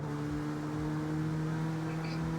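Steady engine drone of a car driven in an open-world racing game, with sustained tonal hum throughout, heard alone without talk.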